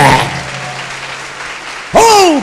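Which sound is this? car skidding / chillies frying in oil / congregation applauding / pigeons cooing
congregation applauding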